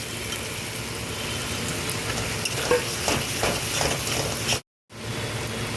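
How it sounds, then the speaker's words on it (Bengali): Eggplant tossed into fried spice paste sizzles loudly in hot oil while being stirred, a steady close crackle with scraping strokes, cut by a brief silent gap before the sizzle resumes; no talking. "মশলাটা কষানো হয়ে গেছে, দিয়ে দিচ্ছি বেগুনটা"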